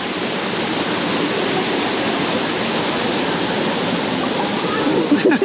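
Waterfall in Colombia, known locally as the waterfall at the end of the world, roaring in a loud, dense, unbroken rush close by, with a few faint extra sounds near the end.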